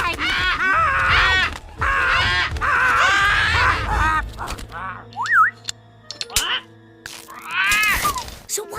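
A cartoon pet parrot squawks in harsh, croaking, crow-like bursts, loud and close. Several cries come in a row, then shorter chirps and squeaks in a cartoon scene.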